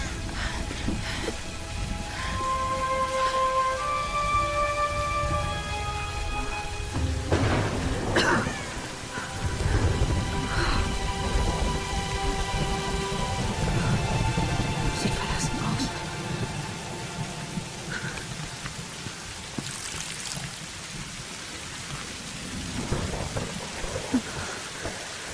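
Storm rain and rolling thunder from the Tomb Raider video game form a dense, continuous downpour with repeated deep rumbles and crackles, while scattered game tones and a voice come through over the storm.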